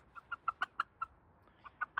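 A young Black Copper Marans rooster clucks in a quick series of short, clipped calls, about ten in two seconds with a brief pause midway, fairly close.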